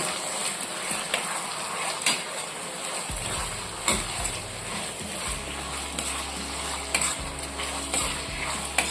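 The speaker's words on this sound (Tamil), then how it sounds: "நம்ம சேர்த்துக்கிட்ட தக்காளி நல்லா குழஞ்சு வெந்து வரணும் அது வரைக்கும் எண்ணெயில் வதக்கிக்கலாம்" Tomatoes cook down in oil for an Oodagam fish curry, a steady sizzle with repeated stirring scrapes and clinks against the pot, and a low hum joining partway through.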